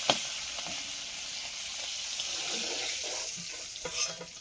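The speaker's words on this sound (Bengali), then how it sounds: "তেলটা গরম হয়ে গেছে এবার চিংড়ি মাছগুলো ভেজে নেবে" Prawns frying in hot oil over a wood fire, a steady broadband sizzle throughout with occasional sharper pops and crackles, close and moderately loud, no voices.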